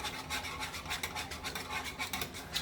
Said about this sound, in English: I am whisking it.